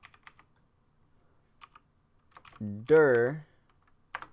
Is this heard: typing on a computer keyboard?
yes